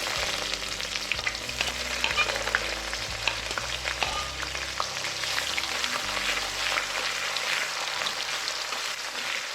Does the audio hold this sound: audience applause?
no